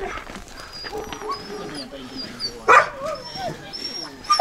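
Siberian husky puppies in a kennel at a racing-dog farm in central Finland whimper and yip in soft, high bursts, one sharper yelp standing out near the end, with people talking nearby.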